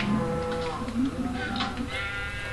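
Sheep in a Minecraft-style video game bleat repeatedly, loud and close, in several wavering cries over a steady background of game sound.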